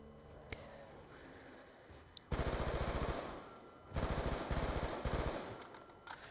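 Galil rifle fire in Black Ops 2 Zombies on the Buried map, inside a saloon corridor: loud automatic bursts in three rapid strings, separated by short gaps with quieter ambient game noise between.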